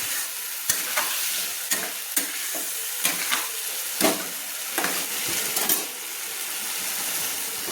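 Fish head curry with garam masala frying in a pan, a constant sizzle punctuated by repeated, evenly spaced scrapes of the spoon as it is stirred, with no talking.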